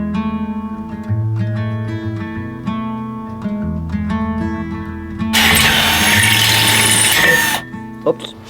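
A power drill whines in rising and falling pitched bursts as the bit bites in and eases off, then gives a harsher, louder grinding roar for a couple of seconds before cutting out; the bit breaks during the job.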